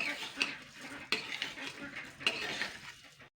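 A spatula stirs chalta (elephant apple) pickle with sugar in a pan, making quiet, close scrapes and light metallic clinks at an uneven rhythm over a faint sizzle, with no talking.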